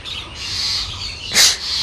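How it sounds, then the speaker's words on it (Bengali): Birds calling outdoors while a dog attacks a fallen bird, with agitated chirps and one sharp, louder cry over a steady background hiss. "দেখো এখানে পাখিগুলো খালি ডাকছে"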